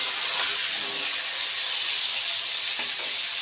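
Pointed gourd (potol) pieces frying in hot oil in a pan give a steady, loud, close hiss that carries on without a break.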